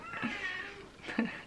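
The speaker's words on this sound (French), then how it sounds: "Tant que je vais parler, il va miauler." A cat meows indoors, two short plaintive calls about a second apart, moderately near and mid-level in a quiet room, with no speech over them.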